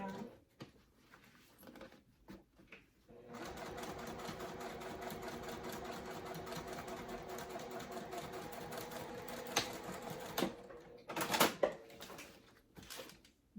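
A sewing machine stitches a zip crossbody bag in a sustained, rapid run of needle strokes lasting about seven seconds, framed by a few quieter handling clicks before and after.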